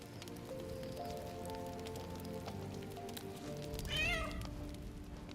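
A cat meows once, briefly and fairly clearly, in the Baldur's Gate 3 video game, set over a continuous low ambient wash with soft tonal background music.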